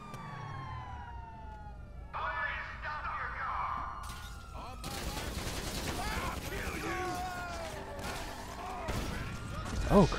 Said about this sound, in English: Shotgun right through the window.